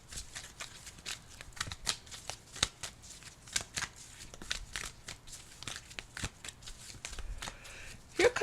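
Angel Answers oracle cards being shuffled by hand, a close, quiet run of riffling and flicking bursts in an irregular rhythm, with no talk.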